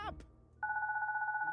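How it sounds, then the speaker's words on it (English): A baby phone ringing in the video game Goodbye Deponia, a steady electronic two-tone trill that starts after a short vocal sound and continues clearly. "my baby phone's ringing"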